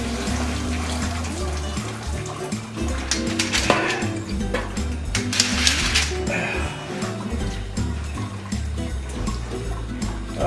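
Cooking water from a clam bake with seasonings gushes and splashes steadily through a strainer, a loud, close, continuous pouring rush lasting throughout.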